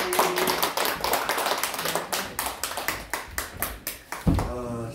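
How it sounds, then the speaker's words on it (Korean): A church congregation claps together in a fairly close, rhythmic series of sharp hand claps that fades out, with a voice starting to speak at the end. "자 우리 박수 한번 합니다."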